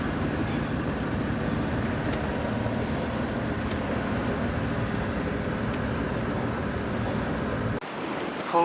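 A Jeanneau sailboat runs under sail and engine on tidal water near Dunvegan, giving a constant rushing blend of wind, waves and motor drone that cuts off abruptly near the end.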